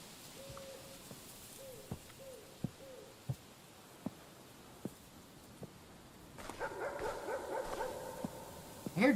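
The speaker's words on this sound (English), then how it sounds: "I hear dogs." Dogs bark in the distance within a video game, with a few sharp, evenly spaced woofs, a low tonal hoot and faint ambience before a rumbling swell near the end.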